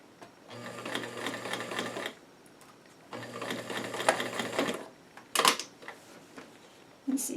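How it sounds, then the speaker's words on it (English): A sewing machine stitches a curve on doll-sized five-pocket jeans in two sustained runs of rapid, close mechanical whirring, each a couple of seconds long, followed by short clicks and handling noises. "Sew over just a little bit and start to turn it so it's going up."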